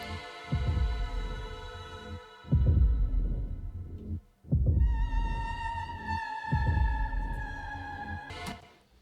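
A heartbeat sound effect from the Trailer Xpressions sample library thumps in slow, deep paired beats, repeating steadily under a swelling layer of sustained tonal vocal textures.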